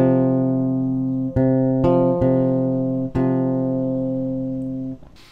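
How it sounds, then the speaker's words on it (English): Perfect fourth double stop on bass guitar starting on C, two sustained low notes ringing together, replucked several times with clear attacks before fading and stopping near the end. "Okay, so that's the interval of a fourth, a natural fourth or a perfect fourth."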